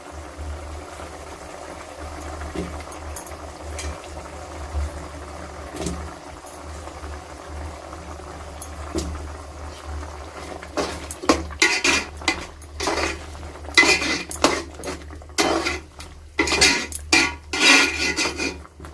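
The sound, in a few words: adding eggplant and potatoes to a cooking pot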